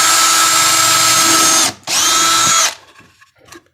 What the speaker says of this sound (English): now I'm going to drill a little hole in the middle of where it's going to be.